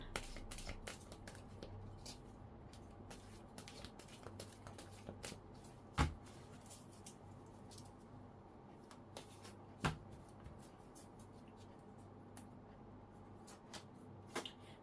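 Tarot cards shuffled close up, a continuous soft papery riffle and flutter with a few louder slaps of the deck, steady throughout and with no voice.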